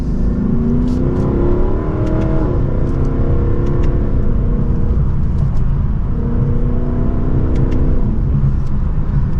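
A Lexus LC500 accelerating from second gear, its engine droning loud and steady with rising harmonic tones that climb through two upshifts, heard from inside the cabin with no talking.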